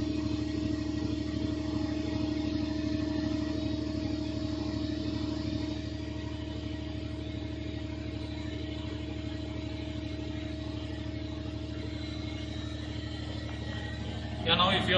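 A DC generator in a lab test setup runs steadily at its rated 1500 RPM, giving a continuous, close mechanical hum with a constant tone and a brief louder clunk at the very end.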